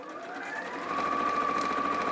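A sewing machine runs steadily through the last seam of a Christmas make, a continuous close, moderately loud whir that rises slightly in pitch and holds for the whole stretch with no talk over it.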